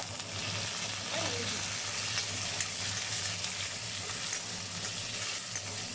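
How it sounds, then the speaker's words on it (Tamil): Onions and curry leaves sauté in a hot pan with a constant soft sizzle close by, steady throughout and without any clear voices over it. "இதையும் சேர்த்து நல்லா வதக்கிக்கலாம் நல்லா அந்த வெங்காயம் வந்து நல்லா கலர் மாறணும்"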